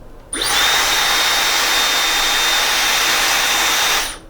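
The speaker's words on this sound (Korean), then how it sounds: "이번에는 다이슨입니다. 네, 다이슨이고 한번 켜볼게요." A Dyson hair dryer switches on and blows a loud, steady whoosh with a thin high whine, running evenly for a few seconds before cutting off.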